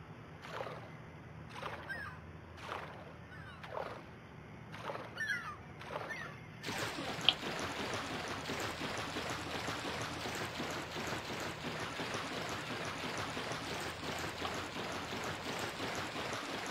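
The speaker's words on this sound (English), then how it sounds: "There's a weird splashing sound" Odd sloshing, splashing water from the Bully video game: several separate splashes at first, then a steady rushing water ambience filling the rest, with no talk.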